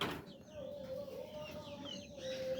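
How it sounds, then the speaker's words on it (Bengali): Chickens clucking softly at a home pet and poultry setting around feeding time, several birds murmuring and calling in a steady chatter with one sustained higher call running through, moderately near. "আর এই দেখেন মুরগিগুলা"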